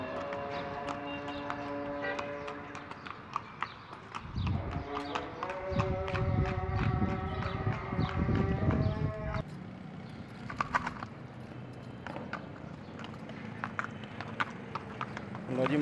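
A mare's hooves clip-clop in a quick trotting rhythm, with tonal background sound and occasional voices over the steady beats.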